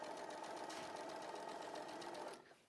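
A sewing machine chain-sews fabric squares in a fast steady whirring run, close and alone, then cuts off sharply near the end.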